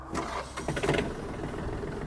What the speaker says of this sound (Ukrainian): Легко, легко трактор завівся